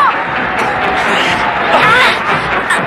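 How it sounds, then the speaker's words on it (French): A crowd at a parade cheers and claps for a passing float, a dense, loud wash of noise with scattered shouts and whoops throughout. "Je te parie qu'ils applaudissent le char qui nous suit"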